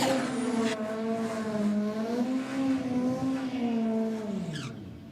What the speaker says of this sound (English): Listen to the RPM in the burnout from the Sylvia.